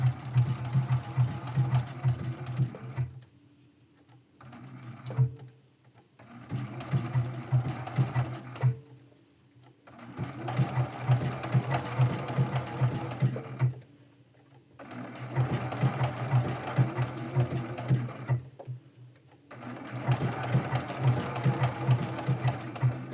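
A sewing machine stitches a quilt block in five steady runs of close, rapid needle hum, each separated by a short quiet pause.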